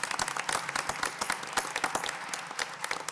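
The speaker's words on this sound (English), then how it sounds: "Let's give Mackenzie a round of applause for that first place." Applause from the audience at a school board meeting honoring a student winner, a dense patter of many hands clapping steadily throughout, moderately close with no talking.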